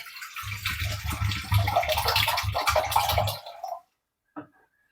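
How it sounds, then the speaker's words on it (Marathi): Half a litre of water poured for bitter gourds in a home kitchen, a continuous gushing, tap-like stream for several seconds that cuts off abruptly, followed by a single small splash. "आता आपण ही कारली बुडतील एवढं अर्धा लिटर पाणी घेऊया"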